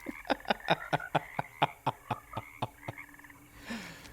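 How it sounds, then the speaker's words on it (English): A frog croaks in the Alone in the Dark remake game with an 8-bit filter, about a dozen evenly spaced, clipped, chiptune-styled croaks followed by a short softer tail. "It's even got the frog in the beginning."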